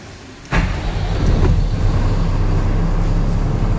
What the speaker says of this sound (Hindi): स्टार्ट कर रहे हैं गाड़ी अभी।